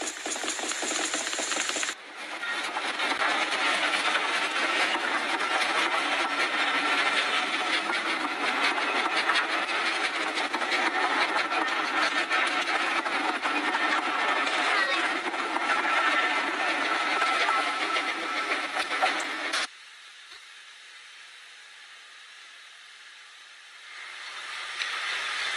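A train running along the rails, a loud continuous rattling clatter heard from on board for most of the span, cutting off abruptly into a quieter hum near the end.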